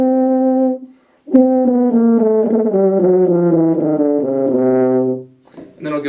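A tuba plays an ascending chromatic scale up an octave from middle C, each sustained note stepping higher in a steady legato line, close and loud, with a brief pause near the start and no talk.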